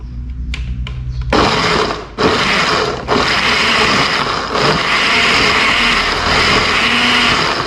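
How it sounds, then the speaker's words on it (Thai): An electric blender whirs through toasted rice, water and basil leaves for jaew dipping sauce, starting after a few soft clicks with a loud steady motor roar that dips briefly twice before settling into a continuous grind. "ตามด้วยน้ำเปล่า250 ml แล้วเราก็มาลงเป็น ใบโหระพาของเรานะครับ ปั่นเลยครับ"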